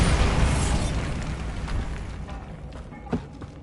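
A Bombarda blast spell in Hogwarts Legacy bursts with a loud, deep boom at the very start, then rumbles and decays over a few seconds, with a small pop near the end.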